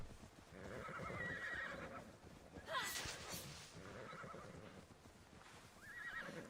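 A horse in Immortals Fenyx Rising whinnies in a brief, fairly faint neigh amid soft hoof clopping and game ambience, with a voice speaking nearby.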